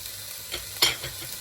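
A spoon stirs the relleno bangus filling in a hot pan with butter, giving a steady sizzle broken by a few short scraping strokes, close and brief with no one talking.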